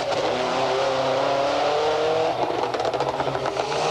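A rally car at the 2008 X-Games Super Special, its engine roaring loud and steady and then revving in rough, pulsing bursts as the driver fights the wheel, with no voices.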